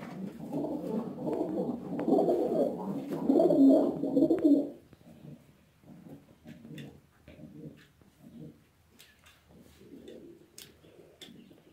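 Pigeons in a coop coo softly in low, murmuring bursts, loudest and densest early on, then thinning to quieter scattered coos with faint ticking and rustling.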